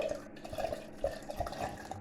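Liquid gurgling and splashing as a litre of cheap gin is poured into a jar for sour cherry gin, a short close pour with bubbly drips.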